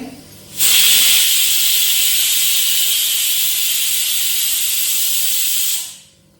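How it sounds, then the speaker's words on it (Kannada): A pressure cooker whistle vents steam in a home kitchen while a masala dish cooks. It is one loud, steady hiss lasting about five seconds, with a sharp start and a fade at the end. "ಮೂರು ವಿಸಿಲ್ ಆಯಿತು ಇನ್ನೊಂದು ಆಯಿತು"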